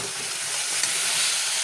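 Spice paste for a fish curry sizzles steadily in hot oil as it is stir-fried, a continuous close hiss with one brief scrape of the spatula partway through.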